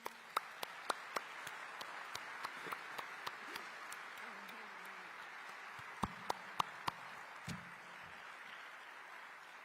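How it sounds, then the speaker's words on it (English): Applause from an audience at a Washington D.C. memorial honoring first responders to the DCA plane-helicopter crash, a steady patter of many hands with a few sharp nearby claps standing out across the stretch, moderately distant and fairly quiet. "Can we have another round of applause for them?"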